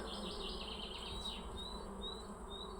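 Dense, steady buzzing of many honeybees carrying pollen into a hive entrance in late March in Poland's Low Beskids, with occasional higher whines of single bees passing close.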